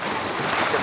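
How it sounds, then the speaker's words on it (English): Rough sea waves churning around a small boat at sea, a loud, dense wash of rushing water and wind noise buffeting the microphone, continuous and close with no clear talk. "The waves are getting really bad."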